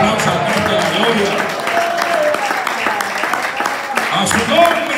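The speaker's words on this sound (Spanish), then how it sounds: "El fuerte aplauso al Cristo de la gloria." Church congregation applauding during a Spanish-language worship service, sustained clapping mixed with voices and shouts for about five seconds, fairly loud and close.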